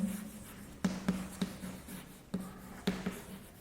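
Pen or pencil writing by hand in a quiet classroom, a faint soft scratching with a few sharper taps and strokes at irregular intervals over a steady low hum.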